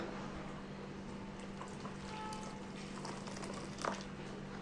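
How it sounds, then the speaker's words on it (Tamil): Hot water poured over tamarind pieces to soak them, a soft, continuous trickle and splash that stays quiet throughout, with a brief louder splash near the end. "இதுக்கு வந்து சுடு தண்ணி விடுங்க"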